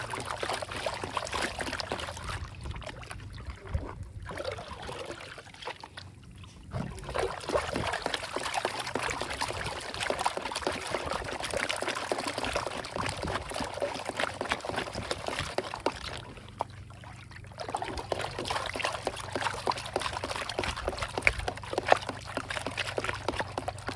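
River water and gravel slosh and trickle in a gold pan during panning beside the Carson River, a continuous wet swirling and dribbling with brief pauses and renewed splashing, close by and without talk.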